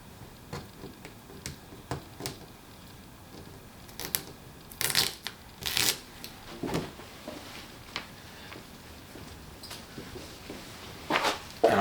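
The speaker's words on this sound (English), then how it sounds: "Get the masking tape off." Masking tape being peeled off the paintwork of a TRD 86 14R car after paint repairs: a string of close, crackly rips and tearing bursts at irregular intervals, with quiet gaps between them and no talk.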